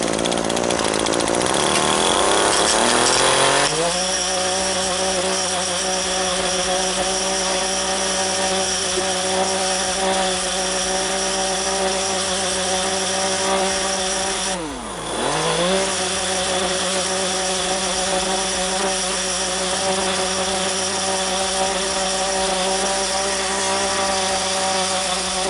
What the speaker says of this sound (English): get the blower